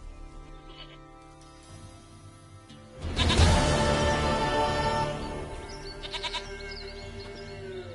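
A goat in The Witcher 3 game lets out a loud, wavering bleat that swells suddenly over a quiet musical ambience, followed by softer chirps; no one speaks.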